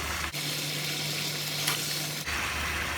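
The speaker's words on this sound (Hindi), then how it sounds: "हम इसे भून रहे हैं अभी और टमाटर हमारा मिक्स हो गया।" Mutton and tomatoes fry in a karahi for Peshawari Shinwari mutton karahi with a loud, steady sizzle and occasional stirring scrapes, with a low steady hum in the middle and no voices.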